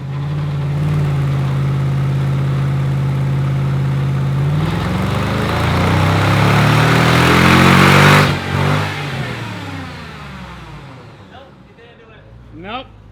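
A Mercedes SL55 AMG supercharged V8 revs on a dyno: a loud, steady engine drone climbs in pitch through a full-throttle pull, peaks, then drops off as the engine winds down.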